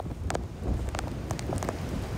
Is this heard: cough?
no